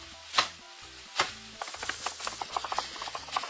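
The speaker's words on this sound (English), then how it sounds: "We then mince 3 cloves of garlic" A knife minces garlic cloves on a cutting board. Two isolated chops are followed by a rapid run of quick, crisp taps, close and fairly faint, over a light background with no talking.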